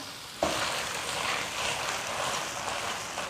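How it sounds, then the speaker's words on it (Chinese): Three crucian carp sizzle and spit in hot oil, a loud, constant frying hiss that jumps up suddenly right after a quiet start. "3条鱼一起就煎了。"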